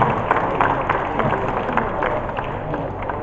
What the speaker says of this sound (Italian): Saluto la Corale Novese, un applauso a loro